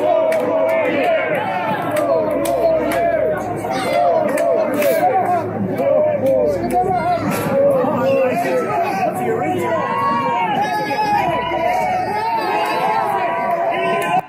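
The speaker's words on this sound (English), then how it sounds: "these people are cheering for Donald Trump" Dense crowd at a Donald Trump rally in Harlem, New York City, a loud continuous babble of many voices with overlapping shouts and chatter, close and sustained throughout.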